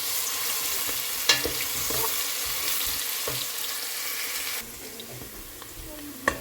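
Finely chopped onions sizzle in hot oil in a home kitchen, a steady crackling fry with occasional sharp clinks of a utensil against the pan, then quieter sizzling.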